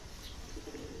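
Soft cooing of homing pigeons returning to the loft after a training flight, over a dense, noisy outdoor background, brief and fairly faint.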